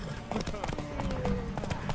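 Hooves clip-clop in a quick galloping rhythm as a horse races in The Witcher 3: Wild Hunt, the steady pounding running beneath character voices talking over it.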